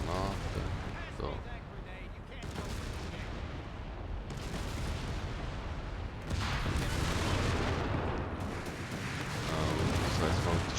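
Explosions and gunfire from the Company of Heroes 3 war game fill the battle with dense, continuous booms and rattling shots, loud throughout, with someone talking over the combat.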